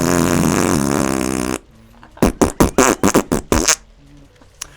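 A loud, drawn-out fart noise blares close and harsh, then stops abruptly and is followed by a quick string of short sputtering bursts.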